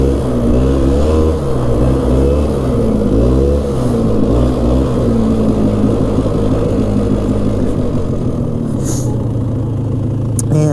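A 2000 Polaris Xplorer 400 4x4 ATV with its original engine on a test ride, a loud, close, continuous engine drone that revs up and eases off repeatedly over rough running, with no talking.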